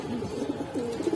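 Gribaz pigeons kept in a loft give low, throaty coos, a few overlapping rolling calls close by against a quiet background.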